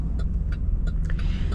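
A 2026 Chevy Express Passenger van's V8 engine rumbles steadily at close range, with a deep, continuous low drone and no voices over it.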